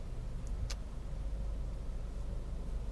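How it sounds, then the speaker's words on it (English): A 2013 Honda Civic Si sedan with a sport-tuned exhaust idling at a stoplight, a faint, steady low rumble heard from inside the cabin with a couple of brief ticks early on. "The only thing that I hear is just the low rumble of that sport-tuned exhaust."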